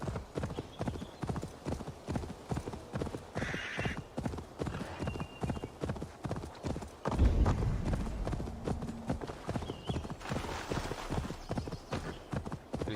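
Horse hooves clip-clop steadily at a walking pace in Assassin's Creed Valhalla, a continuous even rhythm under faint game ambience, with a brief louder thump partway through.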